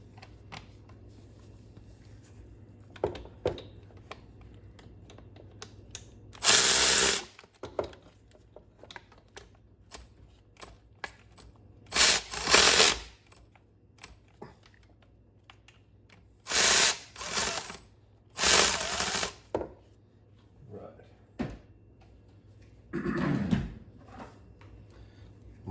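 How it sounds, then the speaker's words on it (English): Socket ratchet working 1/2-inch bolts loose on a Mercury 135 BlackMax outboard engine, with several bursts of rapid ratcheting clicks separated by quiet pauses and small metallic handling noises, close up with no talk. "We're gonna go ahead and get those removed. Need our regular socket for that"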